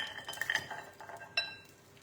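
Metal air fryer basket pulled out with light clinks and scrapes, then roasted cauliflower and macadamias tipped into a bowl with a short clatter, close and fairly quiet.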